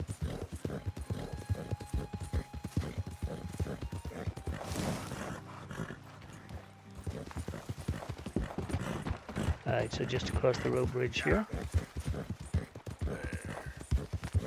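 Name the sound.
Appaloosa horse hooves clip-clopping in video game Red Dead Redemption 2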